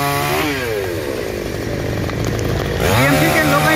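A chainsaw cuts a fallen tree into small pieces on a road during municipal cleanup, its engine whining steadily up close and loudly, with pitch dips and rises as the chain bites into the wood.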